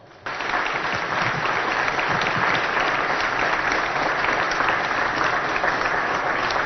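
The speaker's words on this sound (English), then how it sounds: "Now give yourself a huge round of applause." A standing audience at a Somali Hope Foundation charity gala applauds together. The clapping is dense and sustained and starts abruptly at full strength, then stays at an even level throughout.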